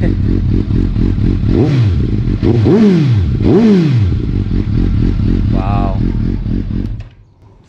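A Suzuki GSX-S750 motorcycle engine, already warmed up, idles loudly up close and is blipped three times in quick rising-and-falling revs before cutting off near the end; a voice briefly exclaims over it.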